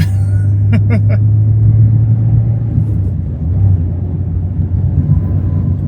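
A 2024 Mazda MX-5 Miata with a manual transmission drives along a quiet road, its steady low engine drone and road rumble heard loud from inside the cabin, with a few brief clicks early on.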